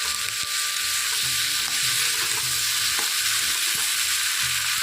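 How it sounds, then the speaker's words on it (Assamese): Eggplant and dried fish frying together in a pan for an Assamese dish: a loud, close, unbroken sizzle with faint stirring clatter and scraping, and no talking. "এতিয়া চব দি দিছোঁ অলপ সময় মই ভাজি ল'ম"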